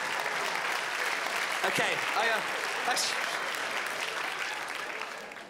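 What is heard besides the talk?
audience applause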